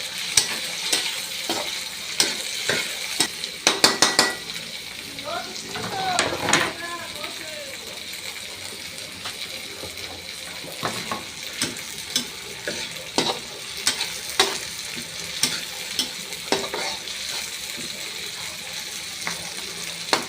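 Chili peppers sizzle and fry in a pan for adobong sili, with scraping stir strokes and occasional clinks recurring throughout; a steady hiss sits underneath while a voice briefly speaks.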